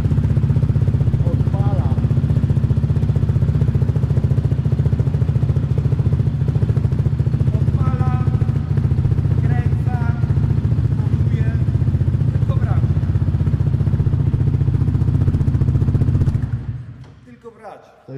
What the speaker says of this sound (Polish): Pierwsze odpalenie z gazem.